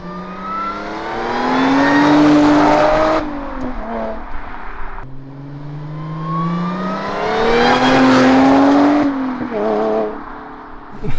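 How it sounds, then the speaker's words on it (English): A supercharged Dodge Hellcat revs and accelerates in two long pulls, its engine note rising with supercharger whine before dropping off between runs, loud and close inside the car. "The supercharger honestly sounds nice though."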